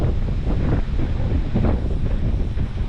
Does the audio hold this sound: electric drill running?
no